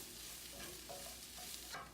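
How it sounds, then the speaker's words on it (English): Seasoned vegetables are stirred in a pan with a faint, soft scraping and light sizzle, a few quiet utensil strokes close by, with no talk. "and give that a stir"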